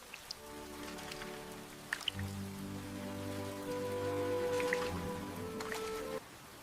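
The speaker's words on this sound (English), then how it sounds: "Rain." Rain falls outdoors as a faint, steady patter of drops with a few scattered louder taps, alongside a soft sustained tonal hum in the background and no talking.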